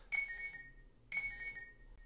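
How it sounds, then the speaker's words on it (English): A phone alarm from an arithmetic-puzzle alarm app rings in two short electronic bursts about a second apart, bright and tonal, with quiet gaps between and no talking. "so there is the alarm"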